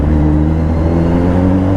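A Kawasaki Ninja 1000SX with a loud exhaust roaring inside the Ayala Tunnel on EDSA at night, a deep, steady, close engine drone that fills the enclosed space.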